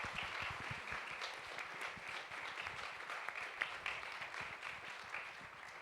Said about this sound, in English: If everyone can give them a big round of applause,